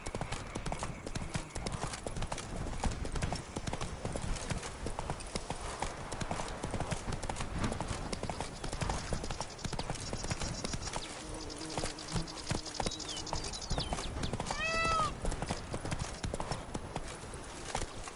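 Hooves of the horse Roach clip-clop in a fast, continuous gallop in a PS4 video game, with a brief whinny near the end and someone talking intermittently over the hoofbeats.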